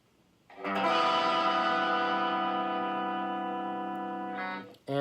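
A single strummed guitar chord in drop C tuning with the two highest strings left untuned, ringing loud and sustained through heavy effects with a distorted, echoing tone, then cut short near the end.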